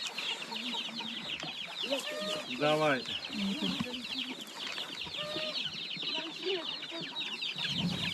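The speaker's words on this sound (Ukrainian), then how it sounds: "З курчатами будете їхати." Chickens cluck and chirp continuously in a crowded setting during an evacuation from a shelled village, with people talking nearby and a brief spoken word over the birds.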